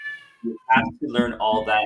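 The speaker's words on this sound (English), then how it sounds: "Whose cat is that? That's my cat." A pet cat meows a few short times in a home setting, close by, mixed in among people talking over it.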